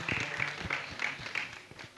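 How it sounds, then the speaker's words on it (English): Scattered applause from an audience in a school talent hall, a handful of claps rising and fading over a couple of seconds, moderately near and not very loud. "Please a round of applause for her."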